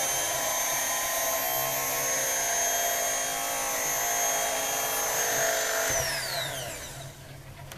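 An electric mixer whirs steadily through castile soap batter, a loud, even motor drone that winds down near the end as it is switched off.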